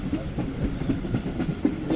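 The Karakoram Express runs through extreme dense fog on a winter journey from Karachi to Lahore, its wheels rumbling with a steady rhythmic clickety-clack heard from inside the carriage, loud and continuous, with faint voices underneath.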